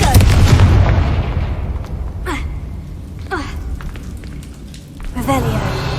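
A Confringo fire spell explodes in the Hogwarts Legacy video game, with booming, crackling blasts up front followed by several quick whooshing spell bursts over a rumbling background.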